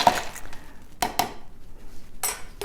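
A cranberry habanero martini stirred in a mixing glass, giving a few brief clinking taps of spoon against glass with gaps between, plus a short burst of faint rattling near the end.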